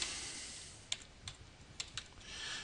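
Faint, quick keystrokes on a computer keyboard, soft scattered clicks with a few sharper taps over low background hiss.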